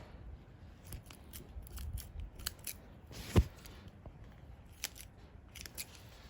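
Kitchen scissors snipping through a squirrel carcass while it is cleaned, quiet scattered clicks and cuts up close, with one louder sharp snip in the middle.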